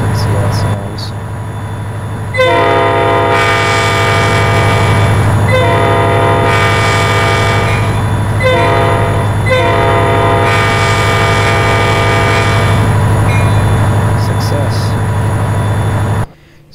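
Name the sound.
two-part diesel locomotive horn, video game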